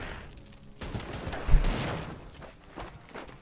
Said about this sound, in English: Hear that MP40, just a beautiful sound.